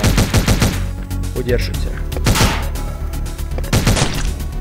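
Rapid gunfire from the side-scrolling action game Omega Strike, loud bursts of shots repeating over game music and effects, with a voice speaking briefly over them.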